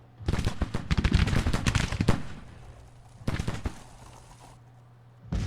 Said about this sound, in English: Pretty effective his artillery actually at this range and through the woods